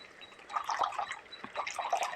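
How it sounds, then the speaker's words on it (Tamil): Tamarind water pours and splashes softly into a pot, a quiet gurgling trickle with small drips, close by. "புளி தண்ணி நம்ம ஊற்றிக்கலாம்"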